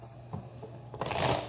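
A deck of tarot cards being shuffled indoors: soft taps, then a close, papery riffling burst for the last half second, fairly quiet.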